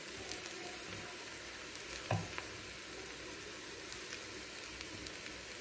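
Paniyaram batter frying in oil in a pan, a faint, even crackling sizzle like light rain with a couple of small clicks, quiet and without speech.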